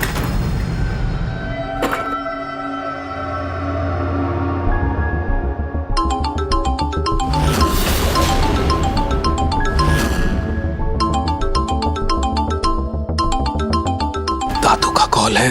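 A mobile phone rings with an incoming call, its repeating electronic ringtone melody looping in bursts over steady background music, with no one speaking.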